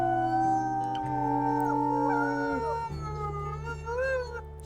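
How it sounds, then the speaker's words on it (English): Wolves in the video game Wildfire howl together, with several long, wavering howls overlapping and gliding in pitch, including a higher, squeaky voice. The howling is sustained, full and close, with no talk over it. "I think that really squeaky howl was Kindle, you guys."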